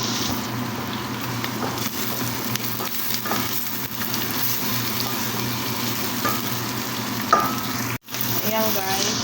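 Garlic frying in a pan for a chicken dish, a steady close sizzle with occasional stirring scrapes throughout, and a brief clatter near the end.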